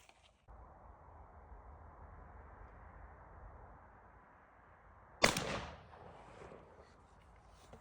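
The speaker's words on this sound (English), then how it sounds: "So now we're going to take another shot with the tungsten at 20 yards." A Charles Daly 101 shotgun fires a single tungsten turkey load at a 20-yard patterning target: one loud, sharp blast over steady background hiss, with a short trailing echo.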